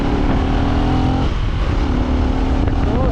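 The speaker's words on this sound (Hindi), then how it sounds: "इस बाइक की एक अच्छी बात है कि लाइक ये ना जैसे 3rd गियर में चल रही है हिल से" A motorcycle engine labours uphill in third gear on a mountain road, its revs holding steady with a loud, close drone, a brief dip midway, then a climbing tone again.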